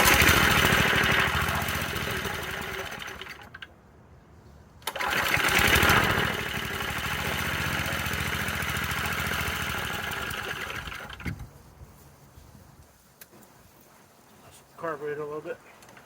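A Manco mini bike's small engine runs loud and steady on its first start after two years, briefly dropping and revving again before cutting down near the end, with people talking over it.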